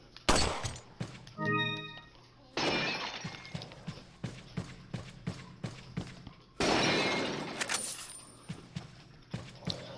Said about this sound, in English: Shoot the apple.